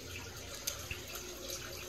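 Water running steadily from a tap during an aquarium water change, a faint, constant hiss with a couple of small splashes or drips, no talking.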